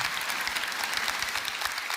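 Applause from a church congregation during an Easter sermon at Oryun Church, a dense and steady wash of many hands clapping for two seconds with no voices over it.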